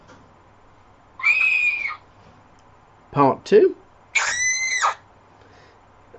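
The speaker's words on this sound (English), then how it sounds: "You have a female scream," Two drawn-out, high-pitched female screams from a tabletop D&D sound-effect app, played one after another with a short spoken phrase between them.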